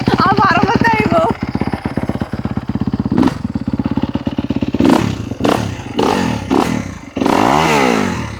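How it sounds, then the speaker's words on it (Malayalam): A Kawasaki KX250 dirt bike engine runs close by, a loud steady idle with sharp revving bursts and clattering thumps between them, then a rising rev near the end. "വണ്ടി എപ്പോഴും ഒന്ന് കുറച്ചു നേരം ഒന്ന് സ്റ്റാർട്ടിങ്ങിൽ ഇടേണ്ടി വരും, ചൂടാവാനായിട്ട്."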